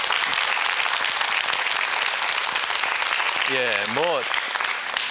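A studio audience on a KBS quiz show applauds with loud, sustained clapping, and a brief spoken reply rises over the applause near the end.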